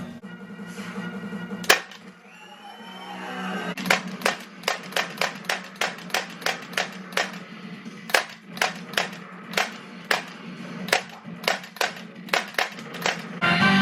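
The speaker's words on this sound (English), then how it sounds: "If you hold this button down right here, now holding the trigger, we'll play around with the recoil." Recoil solenoid in an Arcade1up Time Crisis light gun firing: a steady train of sharp mechanical clacks, close and loud, repeating about twice per second over a low electrical hum, after a single earlier snap.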